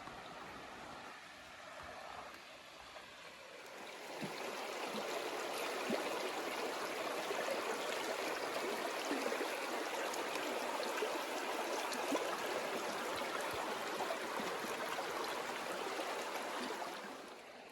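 A wild river in Tasmania rushes steadily. The broadband water roar starts softer and swells after a few seconds, then holds loud and even throughout, with no voices.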